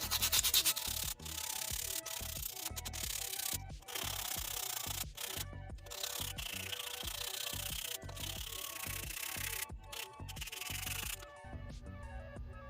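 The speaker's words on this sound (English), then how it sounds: "now that that's done, I'm gonna do some sanding and a whole bunch of it." Steady rhythmic rubbing and rasping of sandpaper on a carved wooden fishing lure, close up, in repeated strokes with brief pauses between passes.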